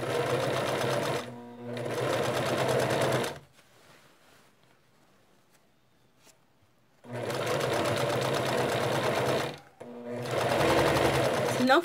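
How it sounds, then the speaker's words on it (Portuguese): Sewing machine stitching a zipper onto fabric, with two long runs of fast, close mechanical whirring separated by a pause, plus shorter starts and stops, and a person talking over part of it. "A gente vai costurando."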